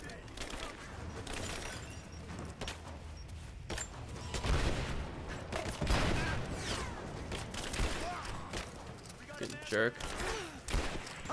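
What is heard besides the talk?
gunfire in video game Rise of the Tomb Raider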